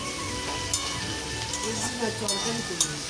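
Meat fries with a steady sizzle in a pan, with occasional metallic clinks of a utensil and voices talking in the background.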